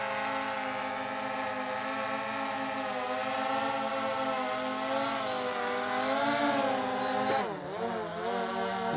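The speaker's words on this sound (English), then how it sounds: "Max motor speed reached. So that's why it is trying to land right now." DJI Mavic drone motors whining at maximum speed while straining to lift too much weight, a loud steady high-pitched buzz with many harmonics that wavers and dips briefly near the end as the drone tries to land.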